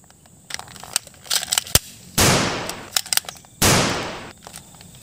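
Shots from a Cobra pistol in a gun video game: a few sharp clicks and cracks, then two loud bursts with noisy decaying tails, close and punchy with no talking.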